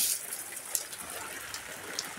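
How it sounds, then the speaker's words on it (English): Rain pouring down outside: a steady wash of falling water with scattered brighter drop hits, moderately close and continuous, with no voices. "Oh no, it's really raining."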